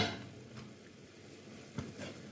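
Dumplings and beans being stirred as they fry in a pan: a soft, steady sizzle with a few quiet scrapes and taps of the utensil, close and low in level.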